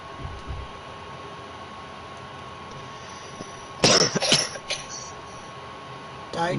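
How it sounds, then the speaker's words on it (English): Several coughs in a quick cluster break through a steady background hum, a sharp burst followed by a few smaller hacks, with a brief noise near the end. "Stop coughing."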